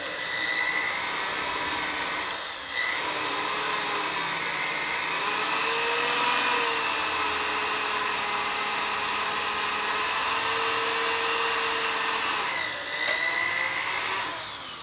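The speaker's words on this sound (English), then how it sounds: "I'm drilling sideways each time." A hand drill whines steadily, drilling out a broken rear sprocket bolt on a Harley Twin Cam. The pitch is high and close, runs nearly continuously with a brief dip partway through, and no one speaks.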